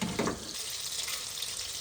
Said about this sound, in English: when you cook the spices in the butter and oil